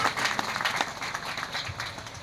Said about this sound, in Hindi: जोरदार तालियां यीशु मसीह के लिए